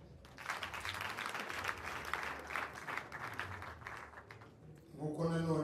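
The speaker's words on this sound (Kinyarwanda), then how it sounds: "nagira ngo mubaze mwihe amashyi." Guests at a wedding celebration applaud for the couple, a steady spread of clapping from a crowd, with a voice speaking over the applause and louder voices rising near the end.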